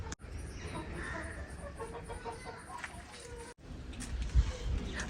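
A hen clucks in short, repeated bursts close by, over steady farmyard background noise.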